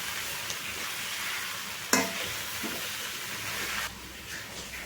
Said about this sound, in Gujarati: હવે બધી વસ્તુને સારી રીતના મિક્સ કરી લેવાની છે આપણે.